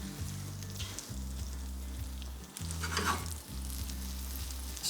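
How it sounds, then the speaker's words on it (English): Brioche pieces frying in melted butter in a pan, a steady close sizzle with bursts of stirring and tossing, briefly dipping before crackling back up loudly. "Our butter's melted,"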